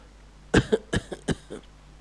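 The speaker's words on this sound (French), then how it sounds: "Puis elle avait toussé 2 ou 3 fois" A burst of about five or six dry coughs in quick succession, fairly close and clear, each short and tapering off, with no talking.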